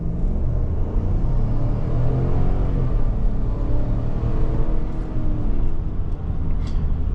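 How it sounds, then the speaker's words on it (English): A 2026 Chevy Tahoe Z71 engine while driving, a steady low rumble and hum with road noise, loud and close, no voices over it. "And this is what the car sounds like."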